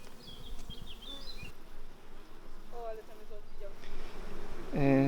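Honeybees buzz around an open hive frame, a close, wavering insect drone with a few louder passes near the end; a voice speaks faintly in the background.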